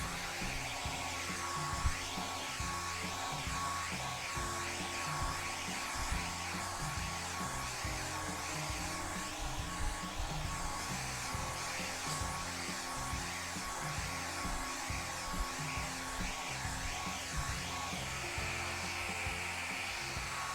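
A hair dryer blows steadily on a freshly painted cactus canvas, a continuous close whooshing hum lasting the whole stretch with slight wavering, no voices.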